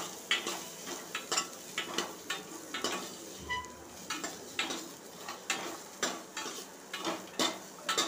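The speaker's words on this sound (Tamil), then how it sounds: "இப்போ சின்ன வெங்காயத்தையும் போட்டு நல்லா வதக்கிக்கலாம்." Small shallots sauté in a pan, with a soft frying hiss under a steady rhythm of spoon scrapes and taps against the metal, close and moderately quiet.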